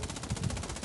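Rapid automatic gunfire in the mobile shooting game Scarfall 2.0, a dense, loud burst of shots crackling without a break.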